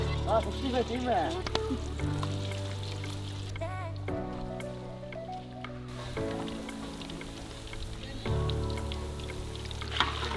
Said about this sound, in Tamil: நல்லா ஊறிடுச்சு எண்ணெயும் சூடாயிடுச்சு அப்படியே ஒவ்வொரு பீஸாக எடுத்து போடணும்